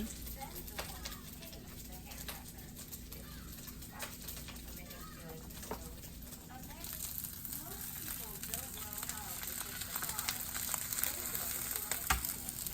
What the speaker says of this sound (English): now you guys see my mom dropping 2 eggs into the pan